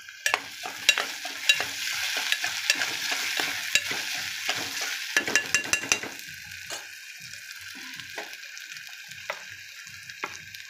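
Two small tomatoes dropped into a frying pan and stirred, giving a bright continuous sizzle punctuated by quick scraping and clinking of a spoon on the pan, close up, the sizzle fading somewhat after the first half.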